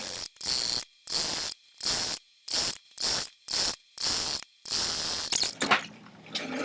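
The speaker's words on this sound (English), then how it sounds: "I'm just going to do a quick basting stitch" Sewing machine running a long basting stitch: eight or so short, loud bursts of whirring and needle clatter separated by brief silences, then a longer run ending with rustling handling noise.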